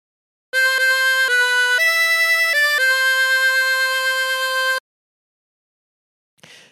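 A 24-hole tremolo harmonica plays a phrase of the Aura Lee melody, several sustained, wavering reedy notes in a smooth sequence, close and loud, followed by silence and a faint brief rustle.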